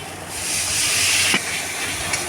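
Water poured onto frying spice paste of turmeric and salt for a pabda fish curry erupts in a loud, close hiss that swells and then fades, with a faint clink toward the end and no speech.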